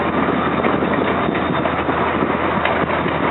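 Amtrak electric locomotive 942 hauling a Keystone train with cab car 9635 out of 30th Street Station, a steady loud rumble and rolling rail noise throughout with no voices.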